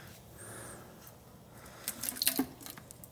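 Gear oil mixed with a little water drains out of a Jeep Wrangler 8.8 axle, a faint, steady liquid trickle with a few louder splashy drips near the end.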